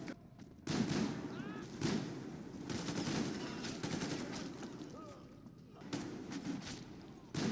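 Video game gunfire aimed at rioters comes in repeated rattling bursts separated by brief pauses, loud and close, with shouting voices mixed in among the shots.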